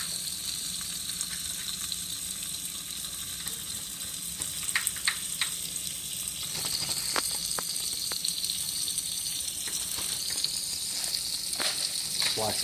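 Buttered bread frying in a pan for spinach and cheese artichoke sandwiches, a steady soft sizzle with occasional crackles and pops, moderately quiet throughout.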